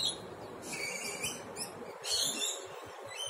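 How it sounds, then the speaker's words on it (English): Small birds feeding on mangoes in trees in Australia give brief, faint high chirps and tweets in a few separate bursts over a soft background. "You can hear them chirping away"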